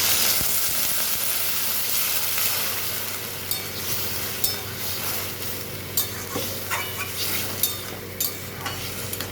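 Water splashed into a hot pan of okra curry with tomatoes sets off a loud, steady sizzle, with occasional spoon scrapes and clicks as the mix is stirred.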